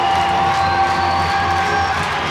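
Home crowd at an ice hockey game between Sheffield Steelers and Coventry Blaze cheering loudly in the arena, a steady, full roar of many voices with faint whoops, sustained evenly through the short span.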